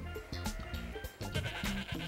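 Goats and sheep bleating in quick succession, several overlapping calls with a wavering, nasal quality, fairly close and steady over a cartoon-like farm scene.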